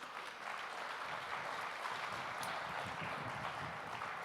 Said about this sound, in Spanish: Colóquese en pie y dele un fuerte aplauso al Señor Jesús.